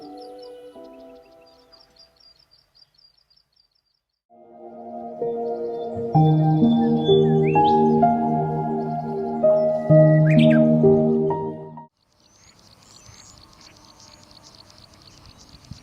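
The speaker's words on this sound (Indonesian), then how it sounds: "Burung ini dalam dunia ilmiah dikenal sebagai Prinia inornata." Plain prinia (ciblek sawah, Prinia inornata), a small bird of rice-field edges, gives a rapid buzzy chirping song, loud and close, in a sustained burst of several seconds, with quieter chips before and after.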